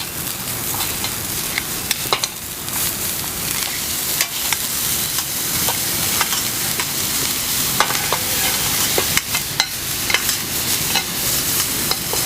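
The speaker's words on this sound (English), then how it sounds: "Add the jaggery." Jaggery added to a hot pan and stirred, with a constant sizzle broken by scraping stir strokes; loud and close, no speech.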